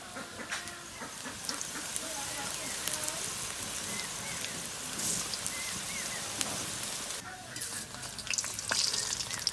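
Chickpea and onion fritters (boot piyaju) frying in hot oil, producing a continuous crackling, rain-like sizzle up close with occasional stirring clatter and brief louder bursts.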